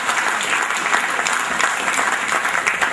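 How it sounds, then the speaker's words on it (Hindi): Steady applause from an audience at an award function honoring a recipient with a shield, dense and sustained clapping at moderate loudness throughout with no talk over it. "आपकी जोरदार तालियां।"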